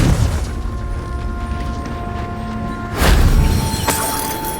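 A Confringo spell goes off in the Hogwarts Legacy game as a loud, close fiery boom with a crackling burst, rising sharply near the end over a continuous rumbling game backdrop.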